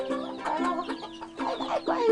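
A hen calls her chicks with a quick run of soft, close clucks in short, rhythmic bursts.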